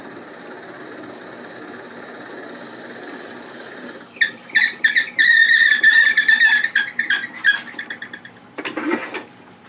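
A woodturning lathe spinning a bird feeder blank: a low steady motor hum, then a tool bites in with loud rhythmic chattering and squealing bursts that rise and fall, close up.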